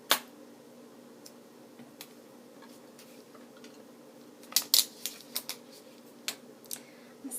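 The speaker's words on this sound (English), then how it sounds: "And then I'm going to take it and cut off the ends here." Scissors snip off the ends of washi tape on a handmade card, a few sharp, quiet clicks scattered over a faint background hum, close up with no talking.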